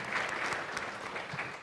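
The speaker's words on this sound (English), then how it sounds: "You can clap for that." Church congregation clapping at a Sunday morning service, a soft, distant patter of applause that fades out within a couple of seconds.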